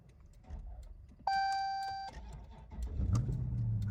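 A 6.4 liter car engine cranks briefly with a steady chime sounding inside, then catches and settles into a deep, rumbling idle close by.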